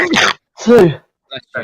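A single close, sharp human sneeze bursts out in a studio, followed by brief speech.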